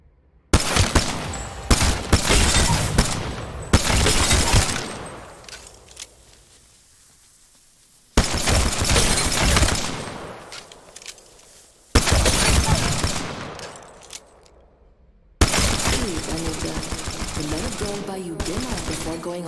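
Bursts of rapid gunfire in a video game shooting sequence, loud and close, arriving in several dense volleys separated by short silences, with a final steady burst at the end.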